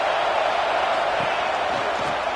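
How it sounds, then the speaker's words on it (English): Steady roar of a stadium crowd in College Football 26, a dense continuous wall of cheering and noise at a tough road venue, loud and even throughout with no individual voices standing out. "Listen to the crowd energy here in the early going"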